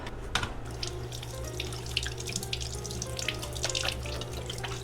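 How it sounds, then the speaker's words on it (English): A kitchen sink tap runs steadily while dishes are washed and old coffee is poured out, close and moderately loud with small clatters and splashes over the flowing water. "I was washing the dishes, pouring out some old coffee"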